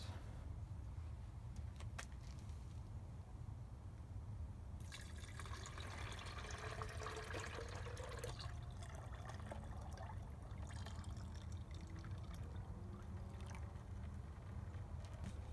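Melted deer fat being poured off from a pot during home soap making, a steady liquid pour and trickle over a constant low background rumble, continuous and fairly close.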